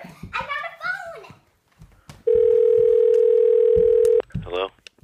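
A telephone dial tone: one steady, continuous tone lasting about two seconds. Children's voices and speech come just before and after it.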